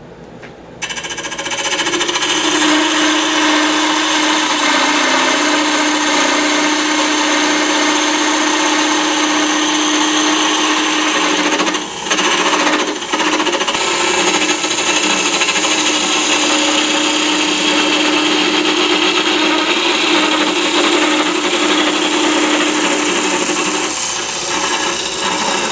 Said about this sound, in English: I'll use the parting tool.